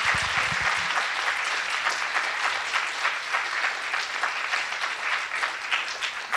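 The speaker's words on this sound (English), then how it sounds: "A round of applause for our scientists." An audience at a science career panel applauds the scientists, with sustained, even clapping from a full room that holds steady at moderate volume throughout.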